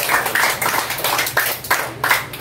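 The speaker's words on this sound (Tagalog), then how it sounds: "Isa pong malakas na palakpak para sa ating Panginoon." A church congregation in Cuyapo, Nueva Ecija claps together in a loud, rhythmic burst of applause, individual claps landing in an uneven beat for a couple of seconds.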